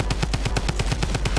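Rapid drum gun fire in the Fortnite battle royale video game, a loud continuous burst of evenly spaced shots at a fast steady rhythm, with no talking.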